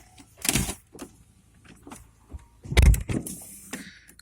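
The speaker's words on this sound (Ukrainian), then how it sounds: "Так, стекла працюють." Power windows on a Volkswagen Golf give short, close motor bursts, several of them in a row with quiet gaps between, the strongest near the middle.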